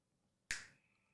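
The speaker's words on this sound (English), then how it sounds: "I didn't even process he was going to snap his fingers." A single sharp finger snap rings out cleanly in a quiet room, a crisp isolated crack that decays quickly with no talk over it.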